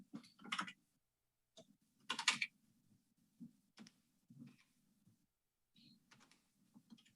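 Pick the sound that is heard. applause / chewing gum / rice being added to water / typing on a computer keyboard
typing on a computer keyboard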